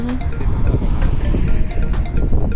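Loud wind buffets the microphone with a constant low rumble and gusting roar, no voices present.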